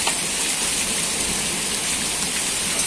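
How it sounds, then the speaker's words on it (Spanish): Steady, dense rain mixed with hail patters and hisses on a hard surface throughout a storm in Chihuahua, with a continuous rushing texture and no voices. "hasta granizo está cayendo"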